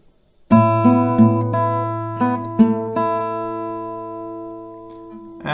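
Acoustic guitar strums a chord progression at standard tempo, ringing open chords struck several times in succession with sustained decaying strings, played alone and close.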